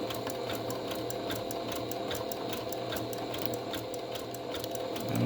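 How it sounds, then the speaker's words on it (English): Sewing machine zigzag stitching across a metal piece in a medical mask, a quiet, steady rapid clatter of needle strokes with even rhythm throughout. "So now it's got a zigzag stitch all the way across the top of the metal piece."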